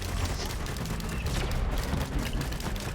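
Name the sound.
gunfire from shooting an enemy in the video game Risk of Rain 2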